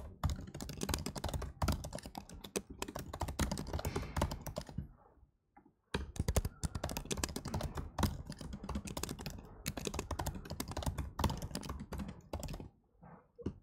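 Rapid, continuous clatter of keys on a computer keyboard, close up, with a brief pause midway before the typing resumes.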